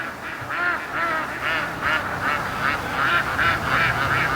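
Free-range ducks quack in a loose, repeated series of nasal calls close by, over a low rumble of wind.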